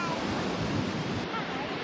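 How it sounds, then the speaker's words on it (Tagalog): Strong ocean waves at a beach in La Union, a steady loud roar of surf and wind noise filling the whole stretch. "Lakas ng alon."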